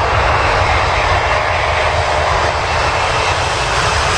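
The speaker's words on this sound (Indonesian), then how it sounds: "Rupanya ada pesawat militer. Ini pesawat Air Force." A military Air Force airplane engine roars loud and steady, a continuous broadband drone with no talk over it.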